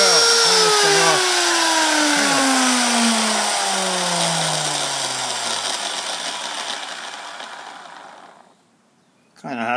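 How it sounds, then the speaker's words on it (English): An old, cheap Harbor Freight power tool winds down from a steady gear-driven whine with spur gear noise, its pitch sliding lower over several seconds before going quiet, then a brief burst at the very end. "Kind of has the spur gear noise to it"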